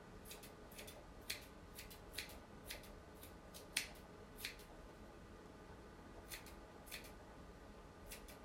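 Scissors snip through ribbon loops to make pom-poms for Valentine mantel decor, giving a steady series of sharp, close clicks and cuts, some louder than others, in a quiet room.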